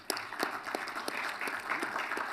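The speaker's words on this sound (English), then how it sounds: "Let's give him a round of applause." A conference audience claps for a finance minister, a short, fairly quiet burst of scattered individual claps mixed into a soft applause bed.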